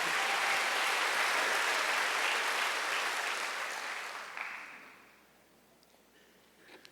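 Applause from a church congregation during a Sunday service, a steady dense patter of many hands that fades out gradually over about five seconds into quiet.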